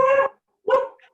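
A puppy gives two short, fairly loud barks close by, separated by a brief pause, with a faint trailing yip after the second.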